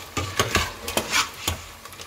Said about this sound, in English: So this is the second frying of the french fries.